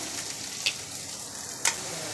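Chicken frying in a pan with ginger and garlic produces a steady close sizzle, broken by two quick scraping stir clicks.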